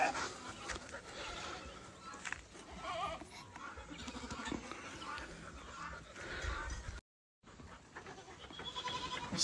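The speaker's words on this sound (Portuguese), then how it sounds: "É o bode Kalahari." A Kalahari goat bleats on a farm amid close animal noises, panting and rustling, with a brief dropout partway through.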